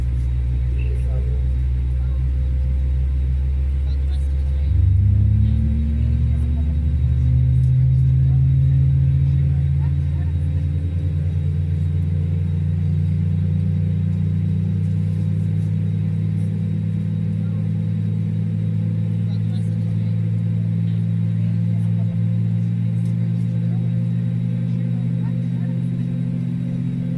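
A simulated Airbus A320 jet engine spins up in Microsoft Flight Simulator, a low steady rumble whose tones rise and settle into a continuous hum that runs the whole time.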